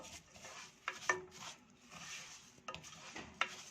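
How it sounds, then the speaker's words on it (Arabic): Vermicelli stirred in ghee in a pan while frying to a golden colour, with occasional utensil scrapes and clinks over a quiet, low sizzle; no talking. "هنحمر الشعرية في السمنة."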